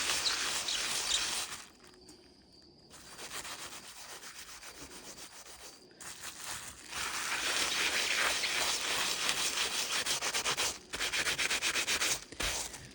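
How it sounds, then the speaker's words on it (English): Wool felt being rubbed onto denim through bubble wrap for friction felting, a close, continuous rasping rub in sustained strokes with a few brief pauses. "And I'm just going to rub this. And this rubbing is felting with friction, right?"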